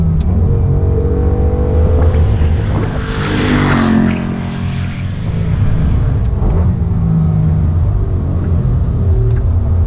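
A 460 hp 2017 RTR Mustang GT lapping a race track gives a loud, steady engine drone from inside the car, easing off briefly under braking and then pulling hard again, with no talk over it.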